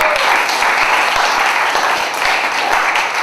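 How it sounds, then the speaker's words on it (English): Loud, dense applause from a live audience at a monologue slam show, continuous and close, with many hands clapping at once and a faint crowd murmur beneath. "give a round of applause for the 30-second slammers that just come up here and do their thing"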